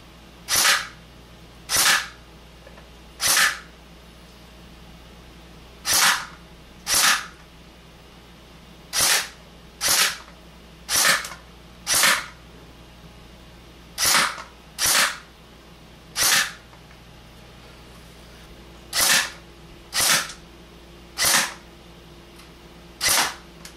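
A Tokyo Marui M14 SOCOM airsoft rifle fires on a 25 range with a scope fitted, giving about eighteen sharp, close single shots spaced irregularly over a quiet background, each one a crisp snap.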